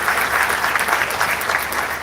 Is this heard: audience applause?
yes